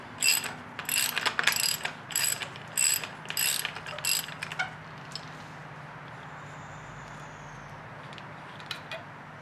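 Ratchet wrench, 24mm, loosening the top cap on a Fox F-Series bicycle suspension fork, a close burst of quick clicking strokes in short repeated bursts, then quieter handling noises.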